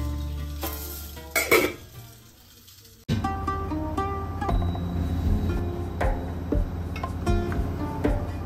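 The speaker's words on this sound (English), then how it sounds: "That's tempering the semolina milk with some shallots and cashews fried in ghee." Shallots and cashews frying in hot ghee for tempering semolina milk, a sudden loud sizzle after a quieter stretch with a few utensil clinks, then a steady close crackle with light stirring and pan taps.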